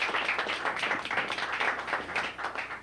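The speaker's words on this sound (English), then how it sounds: "A round of applause for Lloyd." A small audience claps for Lloyd Henderson, a few seconds of steady, fairly close applause with distinct individual hand claps and no talking.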